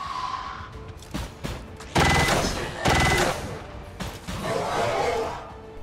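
Loud rapid gunfire from a soldier's shot against an Archon in XCOM 2: War of the Chosen, heard as two dense automatic bursts amid other game noises and effects.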